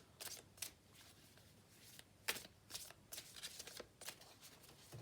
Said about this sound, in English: So now I'm just going to have a little shuffle and pop down one of Ian Doty's beautiful cards, his oracle cards.